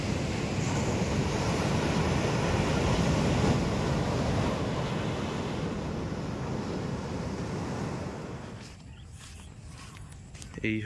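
Sea waves wash onto the beach at Gopalpur at sunrise, a steady, loud roar of surf mixed with wind noise that thins out in the final seconds.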